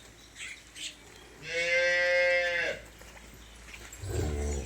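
A Nili-Ravi buffalo heifer lows once, a loud, drawn-out, harmonic moo lasting about a second, with faint rustling and a low rumble around it.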